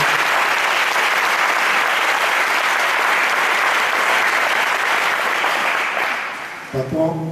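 Church congregation applauding together, a dense, steady wash of clapping that carries on at full strength before tapering off, with a voice beginning to speak at the very end.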